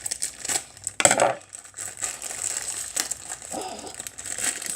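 Scissors snip and chop through crinkly plastic packaging from a colour-changing slime kit, with close rustling and crackling bursts at an uneven rhythm.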